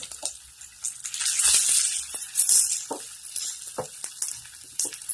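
Curry leaves, three or four sprigs, sizzling and crackling in hot coconut oil over a lowered flame for ash gourd mulakushyam, with steady frying hiss and occasional stirring scrapes, close and fairly loud.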